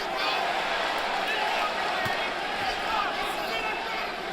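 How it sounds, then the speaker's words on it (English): A packed arena crowd at the Gennady Golovkin vs Daniel Jacobs boxing match roars and chants in a loud, steady wash of voices that carries on throughout, with commentary heard over it. "The crowd is chanting, Daniel, Daniel."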